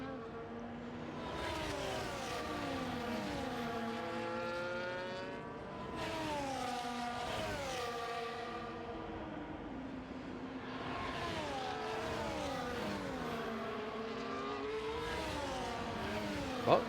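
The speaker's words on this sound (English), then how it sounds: "Now we have another quartet of cars battling over P3." A pack of four race cars in F1 24 battle over third place. High-pitched engines whine through repeated rising and falling gear shifts, close and sustained, with passes overlapping in waves and no talk.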